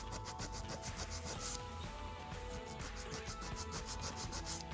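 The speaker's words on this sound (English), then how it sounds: "right here at the free edge is where you want to start, kind of filing on an angle." A nail file rasps steadily across the free edge of a fingernail at an angle, shaping it into a tapered square with quick, even back-and-forth strokes close up, with no talking.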